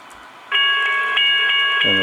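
Crossing-signal bells on a model railroad ring steadily as a bright, sustained metallic tone with pulsing repeats, starting abruptly after a short quiet lead-in, with a lower tone entering near the end.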